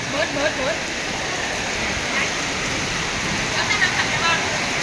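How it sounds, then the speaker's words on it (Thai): Heavy rain pours down steadily in a dense hiss over an outdoor market in Ban Ton, Thailand, with water rising toward leg height, and a voice speaks briefly in Thai over the downpour. "โอ้ยฝนยังไงมาตกดีแท้พุ่นอ่ะน้ำจะท่วมขาแล้วพี่น้อง"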